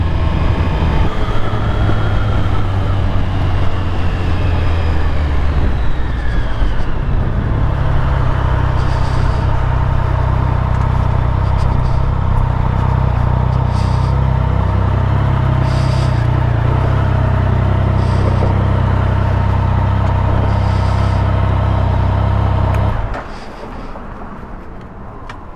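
A Triumph Speed Triple R motorcycle engine roars loud and steady while riding, with harmonic tones shifting as the revs change, then dropping sharply near the end.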